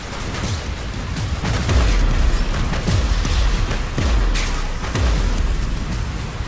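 Repeated deep booming explosions in a casual team deathmatch video game, a tank battle, several heavy blasts rolling out every second or so over continuous game noise.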